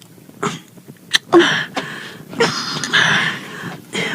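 A few sharp coughs from a person, bursts spaced irregularly and fairly close, with brief breathy pauses between them and no talk over them.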